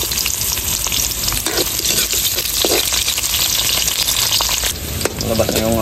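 Garlic, ginger and onion sautéing in a hot pan, a loud, steady close sizzle and crackle with occasional stirring scrapes throughout, with no talk.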